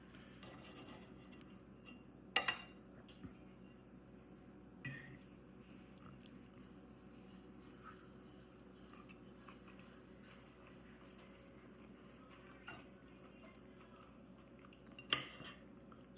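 Knife and fork cut into stuffed bell peppers on a plate, producing faint, sparse clinks and scrapes of metal against the dish, with a few sharper taps spaced out over quiet background and no talking.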